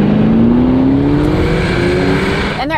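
An Aston Martin DBX engine in Sport Plus mode revs loudly and close, its pitch climbing steadily and then fading into a short gap, with no talking.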